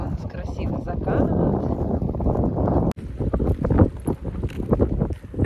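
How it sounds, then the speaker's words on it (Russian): Wind gusting along the shore of Lake Moynaki, a steady broadband rush and microphone buffeting that fills the whole stretch, with a brief dropout midway before the blustery roar resumes. "Такой ветер дует."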